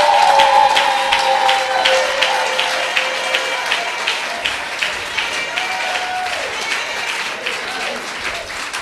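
An audience at an induction ceremony for Prof. Stella Appiah gives sustained applause. The steady, moderately loud clapping thins toward the end, and a few voices are heard briefly near the start.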